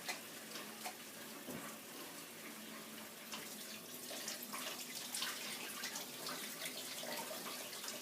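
Hot tap water running into a sink while hands are washed, a soft continuous splashing stream with small fluctuations, fairly quiet and close, without talk.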